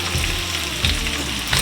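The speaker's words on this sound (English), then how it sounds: "Give the bacon a little flip." Irregular cut bacon sizzles steadily in a hot pan, a constant close crackle with brief louder scrapes and rustles as the strips are turned over.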